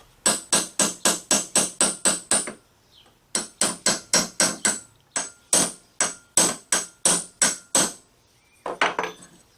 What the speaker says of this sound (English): So now I'm going to drive them subsurface.